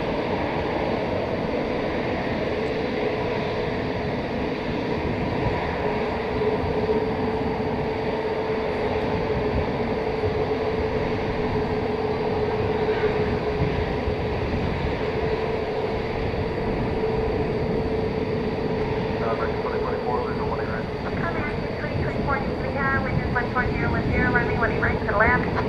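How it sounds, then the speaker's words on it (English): An Airbus A380 jet spooling up for takeoff at DFW Airport at night, a loud continuous engine roar and rumble holding steady throughout, with a faint rising whine near the end. "There's the A380. I think it's going to be able to step on the gas here in moments from now."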